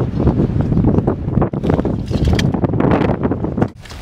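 Strong wind buffets the microphone in continuous rough gusts, loud and close, with no talking.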